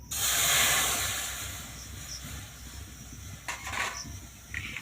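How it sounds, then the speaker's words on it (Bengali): Water poured into a hot kadai on the stove while making apple payesh, giving a loud sizzling hiss at first that fades to a softer steady sputter, with a few brief crackling bursts near the end. "কড়ার মধ্যে দিয়ে দেবো জল"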